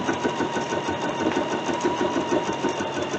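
A dual-feed sewing machine runs steadily while stitching big basting stitches across a quilt, a close, rapid mechanical whir with a fast, even chattering rhythm and no talk.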